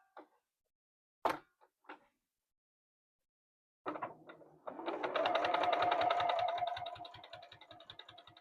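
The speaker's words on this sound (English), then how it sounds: "And then I'm going to stitch that down." A domestic sewing machine stitches down a quilt block for a square-in-a-square, quilt-as-you-go project, running as a steady close whir for several seconds after a few brief clunks and taps, with no talking.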